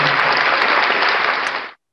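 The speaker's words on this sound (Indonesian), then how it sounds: "Tepuk tangan." Applause at a virtual class retreat, a dense, steady burst of many hands clapping at full level, which then cuts off abruptly into silence.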